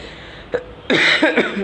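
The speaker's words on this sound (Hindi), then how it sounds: "मुझे खांसी और हो गई यार" A few harsh, close coughing bursts after a brief quiet start, with a short sharp sound before them.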